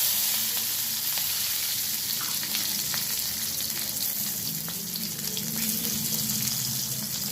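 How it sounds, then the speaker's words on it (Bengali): Cumin seeds and slit green chillies sizzle steadily in hot oil for an aloo curry, a close, continuous crackling fry with no voices. "আমি এবারে ওই তেলের মধ্যে দিয়ে দিলাম জিরে ফোড়ন, দিয়ে দিলাম চেরা কাঁচা লঙ্কা"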